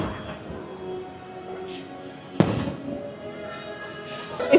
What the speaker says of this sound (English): there's so many great places to watch the fireworks around Magic Kingdom